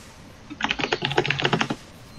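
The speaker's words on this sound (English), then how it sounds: "sorry about that, a little bit of typing" Rapid typing on a computer keyboard during a League of Legends esports broadcast, a close burst of quick clattering keystrokes lasting about a second between quieter stretches.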